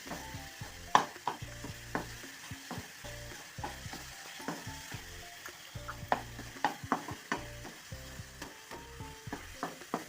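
Ripe banana cooks with powdered jaggery in a pan, a soft continuous sizzle broken by repeated scraping strokes of a spoon, steady and close, with no voices.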